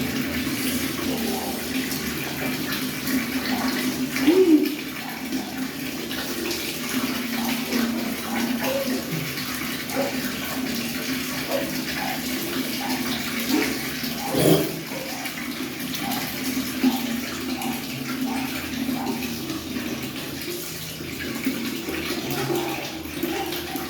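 Water runs and splashes steadily during an outdoor summer bath, a continuous wash of flowing water with small splashes and a couple of louder slaps, no talking.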